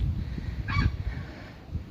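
A goose gives a single faint honk in a village yard, set against low rumbling background noise.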